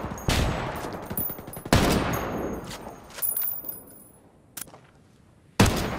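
Gunfire in Ghost Recon Wildlands comes as loud, sharp bursts, three big blasts spaced a couple of seconds apart, each trailing into echoing decay, with smaller shots scattered between them.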